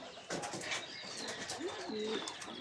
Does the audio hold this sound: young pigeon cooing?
yes